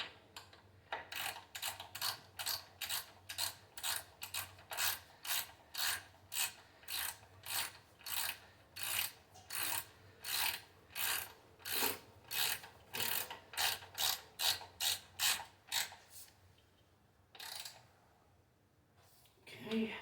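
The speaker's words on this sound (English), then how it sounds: "It's a 6 Allen head, so we're just gonna grab our wrench here." Ratchet wrench clicking rapidly in a long steady run of about thirty strokes while turning a 6 mm Allen head bolt on an Indian Challenger motorcycle, close up, followed by a brief pause and a few final clicks.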